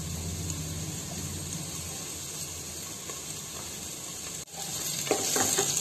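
Masala spices, including Kashmiri red chili powder, fry in a pan for veg biryani, a constant close sizzle with scraping stirs that grows slightly louder near the end.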